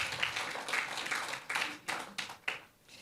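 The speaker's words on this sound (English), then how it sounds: "Big applause, please." Applause from an audience at a climate campaign launch event, a steady wash of many hands clapping with a few sharper bursts, moderately loud and continuous throughout.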